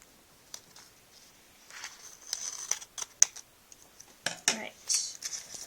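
Scissors snip through book cover material in a few sharp cuts, with rustling and crinkling as the sheet is handled. Close and quiet, starting softly and growing busier.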